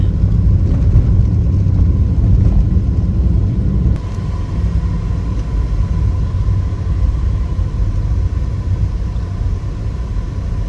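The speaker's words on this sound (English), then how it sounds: "Traffic." Road traffic rolling past on a Jamaican road on the way to Morant Bay after flooding, a steady low engine rumble with a louder passing vehicle in the first four seconds before settling into continuous hum.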